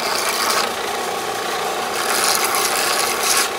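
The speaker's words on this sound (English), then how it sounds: "So I'll just go to a belt sander here." Belt sander grinding down a Motion Pro tool in a workshop, a continuous loud abrasive rasping hiss held close for the whole stretch, swelling slightly as pressure changes, with no talk.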